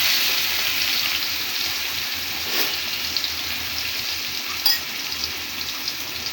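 Red amaranth greens sizzle steadily in a hot pan, a continuous close frying hiss with a soft stir scrape near the middle and a brief clink toward the end, no talking.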